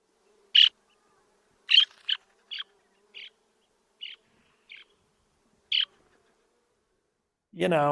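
A person imitates the short chirps and burry calls of small brown shorebirds that stand on mud flats, giving eight spaced notes over several seconds and a brief voiced sound at the end.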